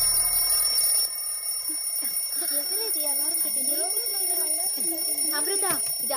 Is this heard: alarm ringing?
yes